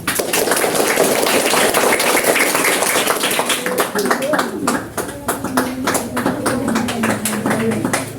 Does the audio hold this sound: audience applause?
yes